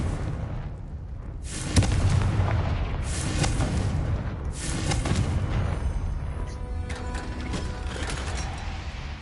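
A Confringo spell is cast in a Harry Potter video game and lands as a rumbling blast with crackling debris, surrounded by steady game ambience and mechanical clatter.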